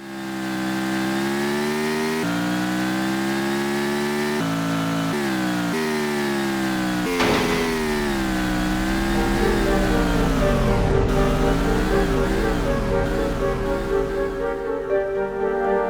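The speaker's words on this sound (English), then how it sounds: "you could actually hear the rumble of their engines" Monster truck engines in a video game demo drone steadily for the whole stretch, a loud, continuous rumble whose pitch dips and climbs as the trucks rev and shift, with no voices.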